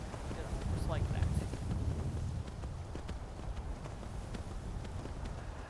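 Horse hooves clip-clop in a video game, faint, quick, repeated taps under a soft airy background, with a person talking over part of it.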